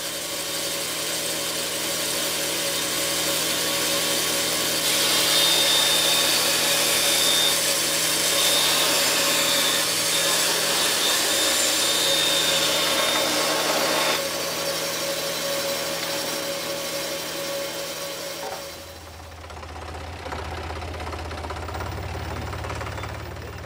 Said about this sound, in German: werden die Dauben winklig ausgesägt, indem der Sägetisch etwas schräg gestellt ist.